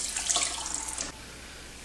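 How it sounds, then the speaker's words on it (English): Water from washed rice running out and splashing into a kitchen sink, a steady rushing pour that stops abruptly partway, followed by faint drips. "And you're going to drain the water"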